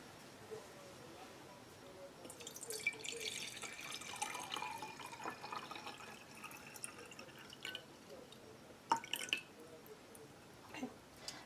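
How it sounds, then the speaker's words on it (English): Water runs and trickles into the lower chamber of a Mateojo stovetop espresso maker, a soft irregular pour with a few sharper clinks, faint and close. "fill it up with water, but not above this valve"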